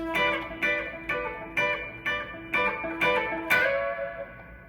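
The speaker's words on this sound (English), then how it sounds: "And then we're going to slide the same shape a whole step up." An electric guitar plays a solo shape slid up a whole step, about eight distinct picked notes in a steady rhythm, each ringing briefly with effects, the last one sustaining longer; no voices.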